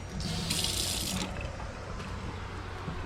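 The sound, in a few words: water running from a sink faucet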